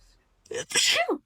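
A single close, sharp human sneeze bursts out after a brief intake of breath, loud and abrupt, with a voice just around it in a quiet room.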